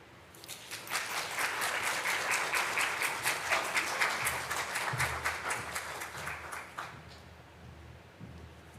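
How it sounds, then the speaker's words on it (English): A crowd at a Native, Indigenous and Tribal graduation ceremony breaks into applause after a speech, with dense clapping that swells quickly, holds for about six seconds and then tapers off. "Can we please give her another round of applause?"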